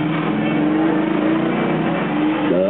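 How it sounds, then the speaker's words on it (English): A car engine drives steadily and loudly close by, its tone holding through the run, then rising as it revs near the end. "Watch out for Bob in the black car."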